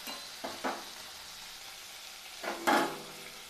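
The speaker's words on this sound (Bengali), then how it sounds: "ভোলা মাছ খুব নরম নরম একটা মাছ, সেজন্য আমি অল্প অল্প করে ভেজে নিচ্ছি" Soft Bhola fish fries in oil with a low sizzle. A few short scraping stirs break in early on, and a louder turning scrape comes near the end. Close by, with no voices.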